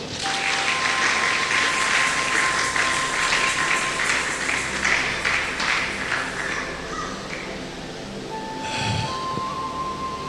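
A church congregation applauds together in a sustained, dense burst of clapping that fills the space for several seconds before thinning out toward the end, with no speech over it.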